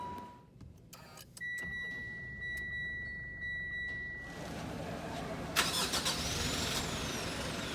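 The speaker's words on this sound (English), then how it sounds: "To start the vehicle, just put your foot in the brake and push the button to start." A 2019 Mitsubishi Strada 4x4 GT starts by push button: a few clicks and a chime tone come first, then the diesel engine catches and settles into a steady idle rumble, close by, with no talking.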